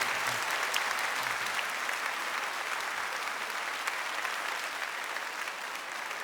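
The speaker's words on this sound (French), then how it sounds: "Sous vos applaudissements, bien entendu," Sustained audience applause fills a concert hall at the Olympia during a 2001 tribute concert, a dense, steady wash of clapping from many hands, loud and continuous throughout without a break.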